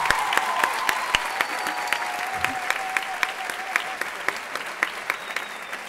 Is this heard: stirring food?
no